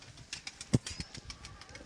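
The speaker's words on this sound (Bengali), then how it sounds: "আর দাদা কিছু পায়রা উড়েও দেখাবে" Pigeons take off and fly, their wings giving a few quick flapping bursts with one sharp loud clap in the middle, fairly close and without talk.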